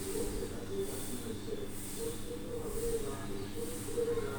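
Broiler chicken pieces frying in hot oil in a kadai, giving a steady, close sizzle and hiss with a gently pulsing crackle throughout and no talk.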